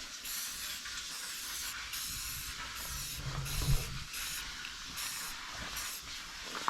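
Spray can laying a light coat of paint on a 1970 Ford truck part, a run of short hissing bursts repeated at an even pace, close and clear with no talk.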